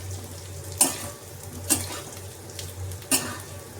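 Chilli, cinnamon and cardamom fry with potatoes in a pan, making a quiet steady sizzle broken by three sharp scrapes of a utensil against the pan, evenly spaced, with no talking.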